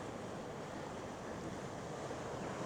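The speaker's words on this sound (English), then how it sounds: "The sea crashing into the sea caves there." Sea waves crash into sea caves along a rocky coast, heard as a steady broad roar of surf mixed with wind buffeting the microphone. The sound is faint and distant, with no voices.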